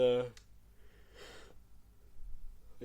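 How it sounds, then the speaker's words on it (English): A long, breathy yawn that opens with a low voiced groan and trails into an airy exhale, close to the listener. "stop yawning."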